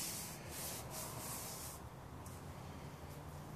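Sandpaper rubbing over the wooden handle of a Disston handsaw under restoration, a close, steady abrasive scratching with several brisk strokes early on that settle into a softer continuous rasp.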